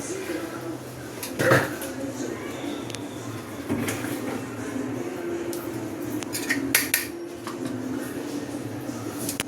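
A sesame mixture for mas vadi being stirred in a pan, with scattered scrapes and clanks of a utensil against metal under ongoing conversation, including a louder knock early on and a cluster of clatters later.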